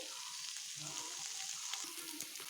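Helencha greens stir-frying in a pan, a continuous quiet hiss of frying with faint scraping stirs and small crackles, close by and without voices.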